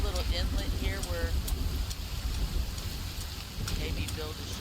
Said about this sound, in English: I don't see how we'll be able to build a fire in this. Rain.